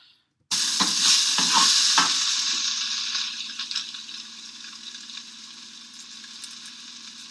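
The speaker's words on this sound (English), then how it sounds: "what I'm hearing there is me hitting the pan with the spatula" A spatula strikes a frying pan several times, sharp metallic knocks over loud, steady sizzling of food frying close by; the sizzle continues alone afterward.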